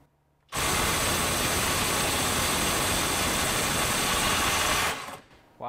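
A FLEX 24V impact driver with a 1/4 inch bit hammers away at its 450 foot-pound setting. The loud, steady rattling impact runs for about four seconds on its own, then cuts off.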